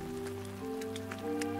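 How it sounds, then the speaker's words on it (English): Rain falls steadily in a meadow in an animated scene, a soft constant patter of drops on surfaces, fairly quiet with no voices. "Rain!"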